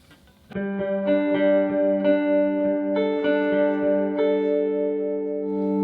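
Maybach Jazpole 63 electric guitar with treble turned up in a bright, clean tone, a slow sequence of ringing chords with sustained harmonics and a slight shimmer, played alone.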